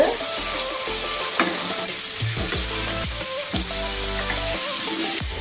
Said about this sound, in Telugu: ఈ మాత్రం ఒక్కసారి అలా అటువైపు ఇటువైపు ఫ్రై చేసుకుంటే చాలు